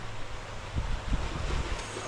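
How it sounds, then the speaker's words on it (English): Strong wind buffets the microphone at a coastal fishing spot during a spell of bad weather, a steady low roar with heavier gusts swelling through the middle, no voices present. "It's been stupidly windy."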